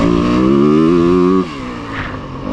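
A 2026 Yamaha WR250F dirt bike engine held wide open, maybe in third gear, with a loud steady rising whine that drops off sharply as the rider shifts, then settles into a lower drone.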